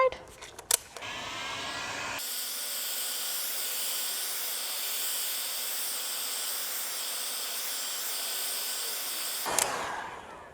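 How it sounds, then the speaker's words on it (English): A heat tool blows a steady hiss onto one side of a cosplay material sheet for about seven seconds. A few handling clicks and bumps come just before it switches on and right after it cuts off. "I'm going to start off with heating up this side."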